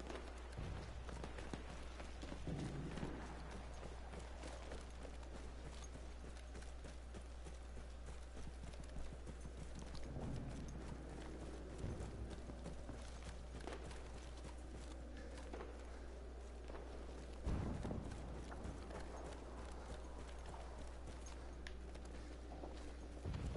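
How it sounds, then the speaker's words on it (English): Horse hooves clattering in the video game Battlefield 1, a steady clip-clop run under continuous game noise and low rumble, with a few heavier impacts along the way. "I heard a horse."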